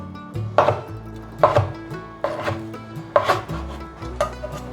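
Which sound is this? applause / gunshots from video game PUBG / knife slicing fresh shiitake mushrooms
knife slicing fresh shiitake mushrooms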